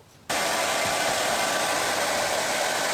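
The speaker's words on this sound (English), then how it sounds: "then we're going to dry it with my dryer." A hair dryer blasts a steady, loud whoosh of air over a craft stencil on a penguin door hanger, starting abruptly after a brief quiet moment and running without a break.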